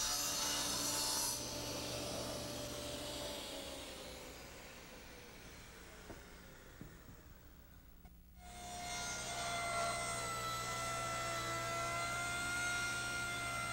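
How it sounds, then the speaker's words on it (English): A thick 10-quarter hardwood slab being ripped into chair parts on a table saw: a steady close whine that strains and dips as the blade labors through the cut, then swells back to full free-running speed, with no voices. "As you can see and hear with this 10-quarter slab that I'm ripping chair parts from."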